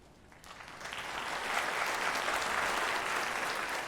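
At a university honors convocation, an audience claps for students from the College of Education. The applause starts quietly, swells within the first second and a half, and then holds as a full, steady roar of clapping.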